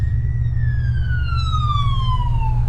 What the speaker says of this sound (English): woke up to the sound of sirens